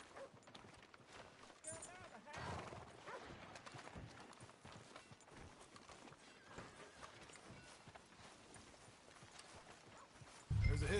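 Horse hooves clip-clop at a steady walking rhythm on a street in the video game Red Dead Redemption 2, fairly faint beneath spoken dialogue, with a louder burst at the end.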